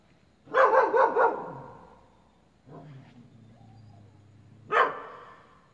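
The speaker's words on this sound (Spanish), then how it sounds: "Donde, ahí están los perros" Dogs bark outside a Pentecostal church at night, first a quick cluster of several barks, then a lower drawn-out sound and one more sharp bark after a pause, moderately close.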